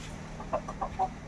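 A few soft, low clucks from a brooding native hen, spaced out and fairly faint against a quiet background hum.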